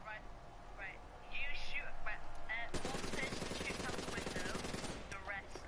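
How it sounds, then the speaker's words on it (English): Rapid automatic gunfire from a zombie shooter video game rattles faintly from a window position in one long, sustained burst that starts partway through, with a voice heard softly. "I'm shooting out the window."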